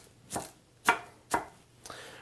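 A knife chopping cabbage on a cutting board for a cabbage and sausage salad, four separate, crisp cuts spaced about half a second apart, close and fairly quiet, each with a sharp crunch that fades quickly.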